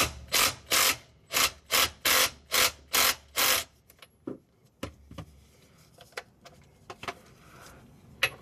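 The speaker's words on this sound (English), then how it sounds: "Now we're going to remove the drain bolt." A car differential drain bolt is loosened, probably on a 2013–2014 Hyundai Santa Fe, with seven loud, evenly spaced ratchet or tool bursts. Softer scattered clicks and clinks follow as the bolt comes free.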